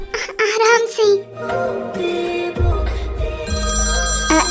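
A phone ringtone plays in a home setting, a steady tonal melody holding from about midway onward at fairly loud level, with a voice and other speech over the start.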